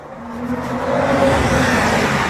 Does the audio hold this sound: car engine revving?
yes